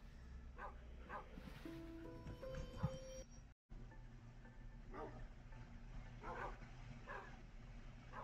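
Dogs in a survival video game bark and yip in scattered bursts over a steady low game-ambience drone, with short tonal chimes and a brief cut to silence partway through.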